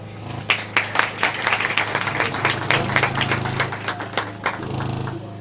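Children clap during a Christmas gathering, a brisk run of sharp, uneven claps over a low steady hum, moderately loud and close.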